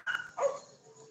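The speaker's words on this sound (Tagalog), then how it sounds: "Maraming aso." Several dogs bark outdoors at night near a home with Christmas lights, two quick yips followed by a drawn-out whining bark, fairly close and moderately loud.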